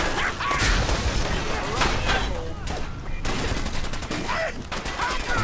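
An automated turret fires in Fallout 4, giving loud, dense, rapid bursts of gunfire that continue almost without pause, with a rattling run of shots toward the end.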